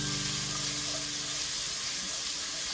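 Onion and hamburger meat sautéing in a Dutch oven, a steady close sizzle and hiss with no pauses and no voices.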